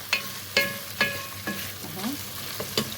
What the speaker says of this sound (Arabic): انا قلبتها شويه، قلبت البصل مع القوانص.